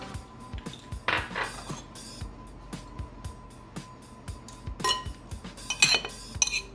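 Eggs and a tablespoon of lemon juice go into a bowl for a lemon cake, with a scattered run of light clinks, taps and clatters of cutlery and dishware, fairly close and intermittent.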